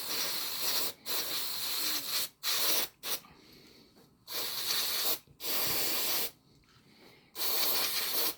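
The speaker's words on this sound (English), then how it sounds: "I'm just going to give them a bit of a squirt over with the parts cleaner first." Parts cleaner sprayed onto Nissan CA18DE spark plugs in a garage, heard as several close, loud aerosol bursts of hiss, each a second or so long, separated by short pauses.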